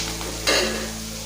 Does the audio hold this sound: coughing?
no